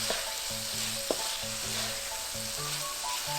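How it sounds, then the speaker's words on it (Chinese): Stir-frying sesame oil, soy sauce, vegetarian oyster sauce, five-spice powder, pepper and sugar in a pan, a steady close sizzle with occasional spatula scrapes and knocks, no voices. "倒入麻油、酱油、素蚝油、五香粉、胡椒粉跟糖一起炒香。"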